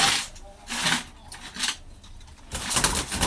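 Soft, low dove coos repeat a few times against a hissy, noisy background, with faint voices in the mix.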